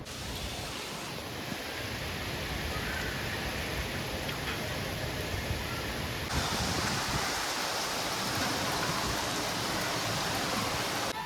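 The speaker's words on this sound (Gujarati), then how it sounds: "હું ઊભો છું અહીંયા તો વરસાદ શરૂ છે" Rain falls outdoors as a continuous broadband wash, steady and fairly loud throughout, with a slight shift in tone partway through and no speech.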